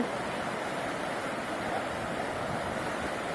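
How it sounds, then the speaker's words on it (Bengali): A river flows near Sonmarg and Baltal in Kashmir on a cold, very windy day, making a steady, even rushing wash that stays loud and unbroken throughout, with wind noise mixed in. "সুন্দর নদীর জল কুলকুল করে বয়ে যাচ্ছে"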